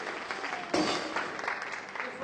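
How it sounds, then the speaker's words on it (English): A crowd at a live magic show breaks into a dense round of applause that swells briefly and keeps going, with voices mixed in. "Round of applause, guys."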